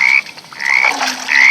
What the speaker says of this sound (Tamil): தவளை கட்டுது.